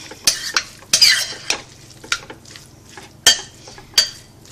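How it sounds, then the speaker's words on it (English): Spoon stirring and scraping a cream cheese filling in a bowl for ham, broccoli and cheese roll-ups, a series of irregular close clinks and soft smooshing strokes with no talk. "Mix that all together well. I want to get that cream cheese smooshed and blended well through the mix."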